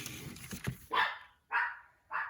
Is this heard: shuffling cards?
no